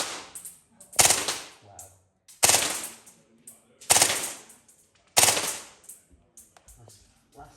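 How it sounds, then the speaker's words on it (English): Shots from a KSC Auto 9 6mm BB airsoft pistol with blowback, four sharp, loud cracks spaced about a second and a half apart, each with a short rattling tail, and a brief voice between shots. "I prefer shooting this one-handed because you get a lot more of the punch from the kick, from the blowback."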